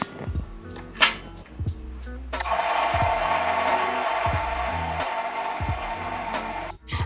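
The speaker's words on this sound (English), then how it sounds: "now we return the bowl back to the mixer and mix it just until combined" Stand mixer beating blueberry pie dough (mustikkapiirakka) in its bowl, a sustained whirring motor drone of about four seconds starting after a few soft clatters and knocks, ending abruptly.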